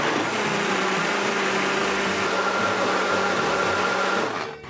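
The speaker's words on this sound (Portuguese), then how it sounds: "Agora nós vamos voltar novamente para o liquidificador." A kitchen blender whirs loudly and steadily as it mixes dough ingredients into a paste, running continuously before winding down at the very end.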